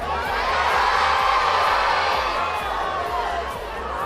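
A large crowd section at a charity dance event cheers and shouts loudly and continuously, a dense roar of voices with whoops that fades slightly toward the end.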